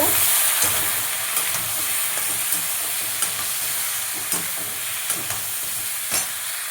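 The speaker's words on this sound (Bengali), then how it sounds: "নাড়াচাড়া করে দেবো একটু নুন দেবো একটু হলুদ দেবো কারণ ভাজা ভাজা হবে ফুলকপিটা" Cauliflower with salt and turmeric frying in a pan, a dense continuous sizzle with spaced scraping knocks as a spatula stirs it, close and steady with no voices.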